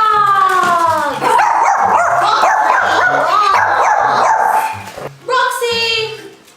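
Dogs bark, yip and howl close by in a rapid, loud series with a whimpering edge, while a person's excited voice is heard alongside.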